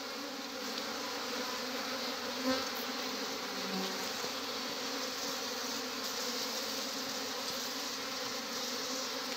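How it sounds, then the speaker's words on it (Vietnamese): Honeybee workers swarm around a caged queen outdoors at a mountain hive, a dense, steady buzzing drone that fills the scene without pause. "Có mấy con ong thợ đang bâu vào rồi mọi người ạ."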